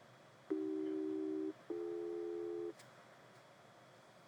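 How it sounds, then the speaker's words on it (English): A VIAVI G1000 test set sends a continuous test audio tone, heard as two clean, steady beeps of about one second each with a short gap between them, alone against faint background hiss. "In this case, I'm going to press continuous tone."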